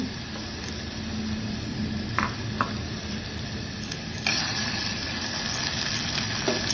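Mustard seeds, cumin, asafoetida, onion and curry leaves sizzle in hot oil for a snake gourd bhaji, a steady close hiss with occasional pops and a spoon clinking against the pan.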